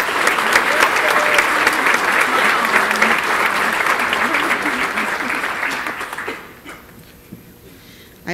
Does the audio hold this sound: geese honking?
no